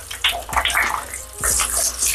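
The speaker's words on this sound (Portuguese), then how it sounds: "Eu detesto essa água pingando aqui." Shower water runs and splashes in a bathroom while a German Spitz is bathed, with a steady close rush of water and intermittent splashing, a voice speaking briefly underneath.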